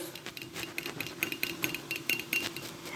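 A fork stirs a salt mixture to a creamy consistency in a bowl, producing a rapid, steady run of light metallic taps and scrapes, close and moderately quiet.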